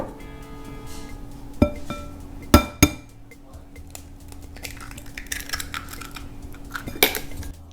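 An egg is cracked against a bowl and dropped in while making French bread dough, with a few sharp clinks and taps standing out close against a quiet kitchen background.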